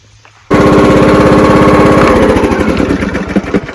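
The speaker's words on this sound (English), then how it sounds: "I'm mowing with this old John Deere" An old John Deere lawn mower engine runs loud and close, starting abruptly after a brief quiet moment and chugging with a steady rapid pulse that roughens slightly toward the end.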